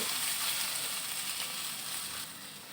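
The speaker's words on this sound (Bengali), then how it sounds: "আমি সবজিটাকে আরেকটু ভেজে নামিয়ে নেব।" Vegetables frying in a pan give off a soft, even sizzle that runs steadily at a moderate distance and fades out at the end.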